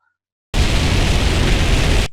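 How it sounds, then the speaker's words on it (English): Jetpack thrust sound effect from a Roblox sound design kit: a sudden, loud, broadband roaring hiss that starts abruptly after silence, holds steady for about one and a half seconds, then cuts off. "How about a jetpack? Check this out."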